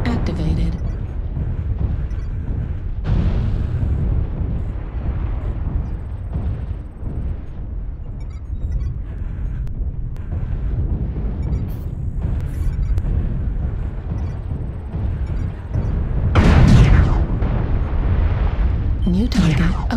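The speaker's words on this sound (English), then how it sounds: "Target acquired. Airstrike activated." Video game airstrike explosions rumble as heavy, low booms under continuous background noise, with a sharper, louder blast standing out late in the sequence.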